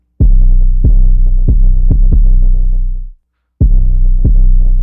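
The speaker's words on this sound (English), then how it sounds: "I added an 808" Deep, booming 808 bass drum hits with long sustained tails, repeating in a steady pattern, stopping briefly, then starting again; clean and loud.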